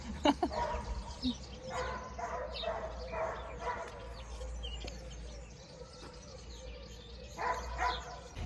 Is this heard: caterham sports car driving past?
no